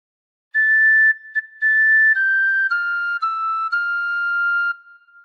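A tin whistle plays a short phrase of Hark the Herald Angels Sing, clear sustained notes stepping downward with brief breaks between them, played solo and close.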